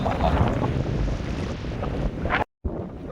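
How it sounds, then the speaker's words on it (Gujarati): Strong wind blows outdoors by the water during a fishing trip. It buffets the microphone in a loud, rumbling gust with water sounds beneath, then cuts out briefly. "ભાઈ લોક જોઈ શકો તમે, પવન ફૂલ છે."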